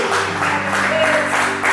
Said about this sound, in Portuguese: Vamos aplaudir o Senhor, irmão?